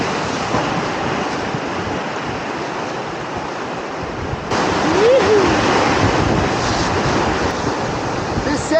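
Whitewater rapids and a waterfall roar through rocky Giarsun Gorge on a Class IV kayaking run. The rushing water is loud and continuous, and it swells a little louder partway through.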